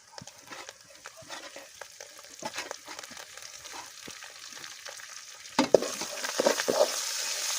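Curry leaves and coriander hit hot oil for a fish curry, giving a steady close sizzle and crackle with light stirring scrapes, which swells into a louder burst of frying and spatter toward the end.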